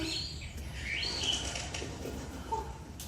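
Birds flutter and flap their wings while giving short chirps and tweets, soft and fairly distant against a quiet background with no talking.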